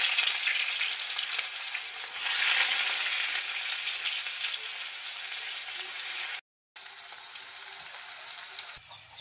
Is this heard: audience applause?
no